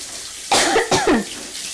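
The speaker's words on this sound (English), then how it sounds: "those spices do let you know by making you cough and sneeze" Two sharp coughs, close and loud, from a person cooking with strong spices in a kitchen, no talking.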